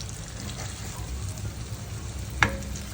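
Eggs and tomato frying in coconut oil as they are gently stirred and scrambled in a pan, a soft steady sizzle with a single sharp utensil tap near the end and no talking.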